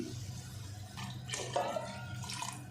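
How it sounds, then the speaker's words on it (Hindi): Water poured into a pot of mutton paya curry, a short splashing gush with bubbly gurgles rising midway, heard up close over a low kitchen hum. "तो अब इसमें पानी डाल देंगे"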